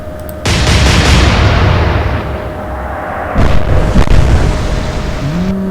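Warship guns fire in the naval video game Atlantic Fleet, a loud heavy boom that rolls into a long rumbling decay, followed by a second blast and sharp crack amid game tones.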